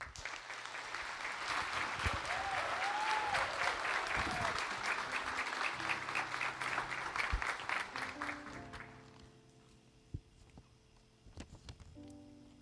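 A graduation audience applauds the class speaker with sustained, even clapping for about nine seconds, a few voices rising over it, before it thins to a handful of last claps and quiet room noise.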